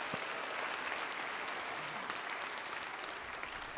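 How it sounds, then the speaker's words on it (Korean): A church youth-group congregation gives steady, dense applause to thank the members who performed in a musical, the clapping filling the room evenly throughout. "조금 늦었지만 우리 수고한 지체들에게 감사의 박수 한번 하도록 할까요?"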